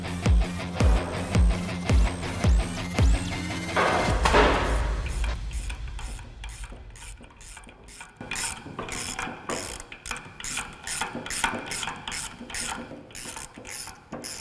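Ratcheting and mechanical clicking while wheel studs are fitted into rear axles for a 1932 twin turbo roadster build, starting with a regular run of loud clicks and then giving way to denser, irregular metallic clatter.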